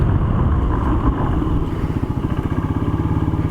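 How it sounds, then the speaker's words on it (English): A van engine idles with a steady rhythmic chug that sags and bogs, its beat loosening and pulsing unevenly before settling back, close and fairly loud with no talking. "see it drop down below and then the idle comes back up"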